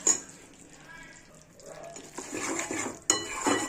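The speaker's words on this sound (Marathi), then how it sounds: "आपलं पीठ छान भाजत होतं" Wheat flour is roasted in ghee in a pan for a sweet shira, stirred with a spoon that scrapes and clinks against the metal. The bursts come close and uneven over a quiet sizzle.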